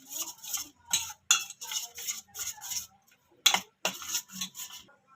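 Spoon clinking against a bowl while tandoori chicken marinade with curry leaves and red food colour is mixed, a run of short sharp metallic taps in uneven bursts with brief pauses, close and moderately loud, no talking.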